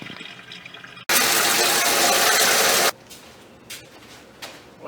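Water sprays inside a homemade keg urinal through holes drilled in the back and bottom. A loud, hissing burst lasts about two seconds, then drops to a quieter trickle with faint splashes.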